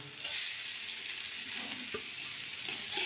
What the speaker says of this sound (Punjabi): ਮੇਥੀ ਤੇ ਮੂਲੀਆਂ ਦੇ ਪੱਤੇ ਚੰਗੀ ਤਰ੍ਹਾਂ ਭੁੱਜ ਗਏ ਨੇ